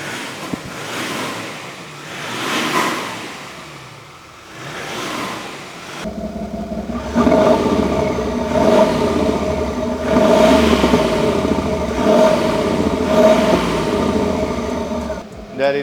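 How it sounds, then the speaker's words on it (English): A THOR electric exhaust sound system on a diesel Mercedes G-Wagon makes an engine-like exhaust rumble that swells and revs in repeated pulses, with a steady hum beneath and a voice speaking briefly at the start. "This is the THOR exhaust sound system fitted on this vehicle here."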